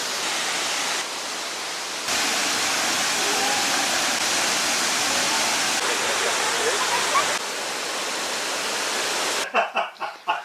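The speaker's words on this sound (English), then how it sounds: "We are now at the third waterfall, which is on top of the second waterfall behind me there." A waterfall in Chile roars as a steady, loud wash of falling water for most of the span, ending in a few brief thumps or bumps near the close.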